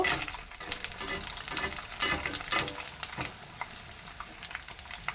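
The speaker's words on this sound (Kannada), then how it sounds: "ನೀಟಾಗಿ ಚೆನ್ನಾಗಿ ಫ್ರೈ ಮಾಡಬೇಕಾಗುತ್ತೆ, ಗೋಲ್ಡನ್ ಬ್ರೌನ್ ಆಗಬೇಕು, ಅಲ್ಲಿ ಗಂಟ ಫ್ರೈ ಮಾಡಬೇಕು." Bread pakoda deep-frying in hot oil, a steady close crackling sizzle with scattered sharper pops and bubbling spurts throughout, no voices.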